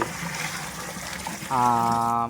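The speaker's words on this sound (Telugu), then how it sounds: "దాని తర్వాత ఫుల్గా వాటర్ పోసేసి" Water poured to fill a large container for mixing poultry medicine, a steady rushing pour that grows fuller and louder partway through, close by.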